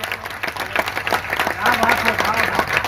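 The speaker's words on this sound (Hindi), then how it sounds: "नहीं, ताली एडवांस पेमेंट मत करो" Applause from the audience at a humorous poetry gathering (kavi sammelan) in Madiyado, a steady round of clapping mixed with voices and crowd murmur throughout.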